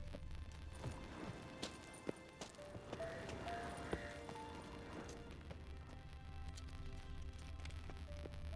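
The horse Roach trots in The Witcher 3 with a steady, even clip-clop of hooves. The hoofbeats are faint but continuous, with a light background hiss and no speech.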